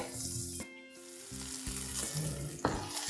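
Chopped onions, tomato and coriander sautéing in a pan on a gas stove, a steady close sizzle with stirring scrapes and a brief sharper burst near the end.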